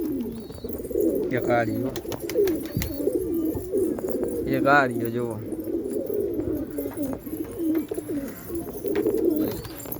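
Pigeon chicks coo softly indoors near a cot, with low, repeated warbling calls close by, mixed with a person talking over them.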